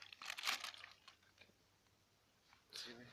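A military ration pack's plastic bag crinkles in a quick close burst, then again briefly near the end, with a voice faintly present.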